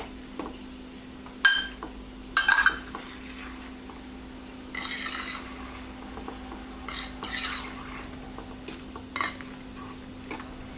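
A spoon stirring half a cup of milk into a mac n cheese mixture in a pot, quiet scraping and clinking in irregular bursts, with a few louder knocks against the side, close and without talk.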